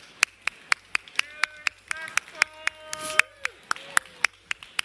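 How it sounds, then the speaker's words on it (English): A conference audience gives a round of applause: crisp, evenly spaced claps that sound close, with cheers and whoops rising over them partway through. "Can you give them a round of applause, please?"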